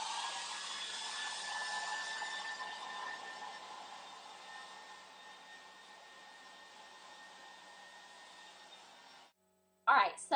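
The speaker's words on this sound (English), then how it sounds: "then we're just going to finish up blow drying our hair" A hair dryer blows steadily while drying hair, a broad continuous whoosh that gradually softens before switching off, followed by a brief clatter.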